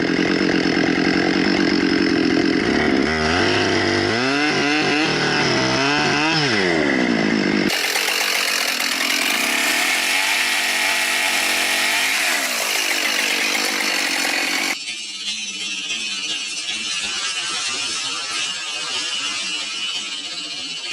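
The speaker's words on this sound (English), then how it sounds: "A worker in the deep forest used a chainsaw" A chainsaw cuts through a tree in deep forest, its loud engine droning and revving continuously with shifts in pitch as the blade bites into the wood, running alone throughout.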